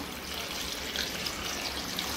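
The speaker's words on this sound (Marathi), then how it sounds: "तर हे बघा पाणी टाकायचं आपल्याला." A steady pour of water into a pot of vegetables for pav bhaji, a continuous splashing trickle with no voices.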